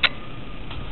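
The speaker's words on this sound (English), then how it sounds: "Click OK." A single sharp click at the start from a computer mouse while renaming an iPod, followed by quiet room tone and a fainter second click near the end.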